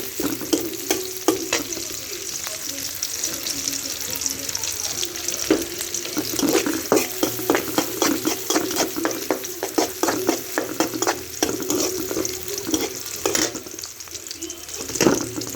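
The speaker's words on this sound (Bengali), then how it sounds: "পেঁয়াজটাকে কিছু কালার করে নেব, ভালো করে নেড়ে ভেজে কালার করে নেব" Chopped onions fry and get stirred in hot oil, a steady sizzle with repeated sharp scraping and clinking strokes of a spatula against the pan throughout, close and fairly loud, with no talking.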